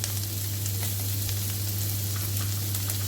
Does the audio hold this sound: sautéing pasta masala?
yes